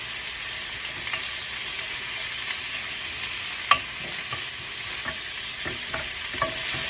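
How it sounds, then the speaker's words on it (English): Bacon sears in a pan with an even, close sizzle, while a wooden spoon stirs and scrapes it in scattered soft knocks. "Let that sear. Don't let it overcook."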